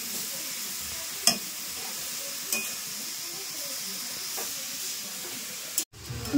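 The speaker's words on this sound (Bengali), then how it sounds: "তো ঘিয়ের ওপর এই যে গাজরটা দিয়ে দিল।" Carrot pieces frying in a small amount of ghee, giving a faint, steady sizzle with a few soft stirring clicks, then a brief louder knock near the end.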